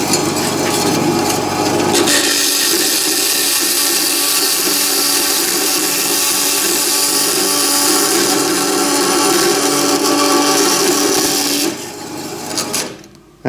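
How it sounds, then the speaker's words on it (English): A bandsaw cuts brass stock while the stock jumps up and down, making a loud, harsh, rasping grind close by that holds steady for about ten seconds and then fades out as the cut ends. "The noise you're hearing is actually the stock jumping up and down."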